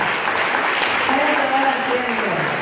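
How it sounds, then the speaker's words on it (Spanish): Church congregation at a prayer-group worship night applauding its servers, a steady dense wash of clapping throughout with a voice or singing faintly underneath. "ya un aplauso fuerte a estos hombres y mujeres valientes"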